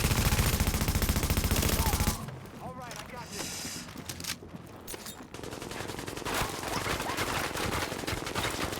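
Rapid, sustained light machine gun fire in The Division, a dense rattling stream at first, then a pause with scattered sounds before steady automatic fire resumes, under occasional talk.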